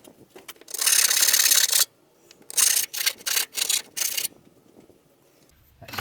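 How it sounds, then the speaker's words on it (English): Burrs are filed off a freshly cut small metal piece for a short shifter in bursts of harsh rasping strokes: one long pass, then several shorter quick strokes, close and loud, with brief quiet gaps between. "once I clean up the burrs off that"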